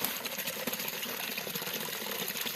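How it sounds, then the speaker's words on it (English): Pure spring water runs out of rocks at a wilderness refuge in Portugal, a steady close babbling and gurgling flow with soft splashes, no voices. "This is pure water that is coming out from the rocks."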